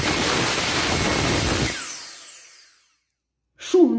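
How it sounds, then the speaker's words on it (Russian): A cordless handheld vacuum cleaner doubling as an air blower runs loud and steady with a high whine, then switches off and winds down to silence before a brief voice at the end. "супер-пупер пылесос. И не только пылесос, а воздуходув."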